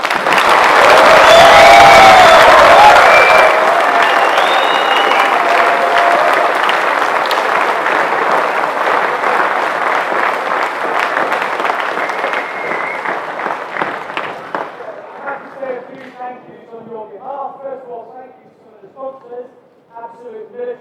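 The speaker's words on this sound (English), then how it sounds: "they all deserve a round of applause" Crowd at the Corps of Royal Engineers boxing championships gives the boxers a long, loud round of applause with some cheering, dense at first and gradually thinning into scattered claps while a voice speaks near the end.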